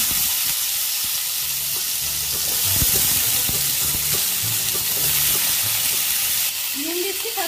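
Mango pieces dropped into hot oil seasoned with panch phoron and a bay leaf, giving a loud, continuous sizzling hiss that stays close and even, with a few soft knocks from a utensil.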